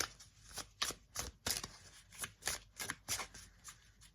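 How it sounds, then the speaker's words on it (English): Tarot cards being shuffled by hand before a card is pulled, a steady run of soft riffling flutters and taps close by, with no voice. "let's go and pull a card"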